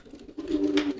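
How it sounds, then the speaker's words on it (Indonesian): Domestic racing pigeons coo in a short, close, soft call that swells into a sustained throaty murmur, with no talking over it. "ini merpati saya yang sedang giring keras nih"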